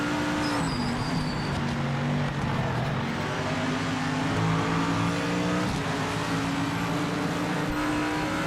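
A race car engine in the video game Project Motor Racing holds a steady loud whine, its pitch climbing and dropping through gear changes, close and continuous throughout.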